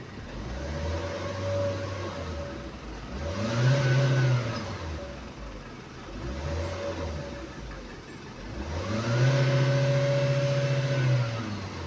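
Revving engine of a Proton Saga 1.3 VVT car, recorded close by: three rising and falling throttle blips, each climbing in pitch and easing back to a steady idle between them.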